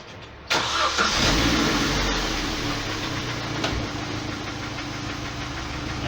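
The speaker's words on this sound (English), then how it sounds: "we'll open the door and we'll start the car" Vauxhall Astra 1.4 engine cranks and catches close by, then settles into a steady, slightly rough idle with a hint of knocking; no voices.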